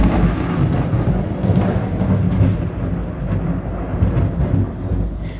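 Thunder rolls during rain outside, a deep continuous rumble lasting several seconds with the hiss of rainfall beneath it and no voices.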